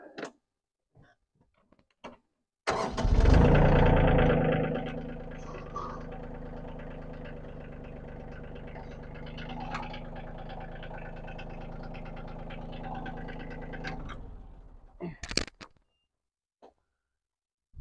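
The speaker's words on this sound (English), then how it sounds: "So I'm gonna start the tractor up now" A tractor engine cranks and catches with a loud burst, then settles into a steady mid-pitched idle for about ten seconds before shutting off, with brief clicks and knocks before and after.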